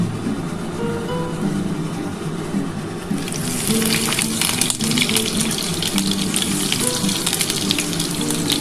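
Chopped onion dropped into hot oil, a loud rushing sizzle that bursts in partway through and stays strong and continuous over a background hum.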